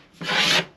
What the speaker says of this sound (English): The scraper just goes way quicker than sandpaper would.